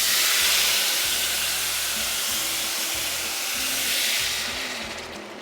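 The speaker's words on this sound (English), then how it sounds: "So now that our oil is hot, I'm gonna go ahead and add the sauce." Sauce poured into hot oil for stuffed poblano peppers sizzles loudly and continuously, a dense bright hiss over low bubbling that eases slightly toward the end.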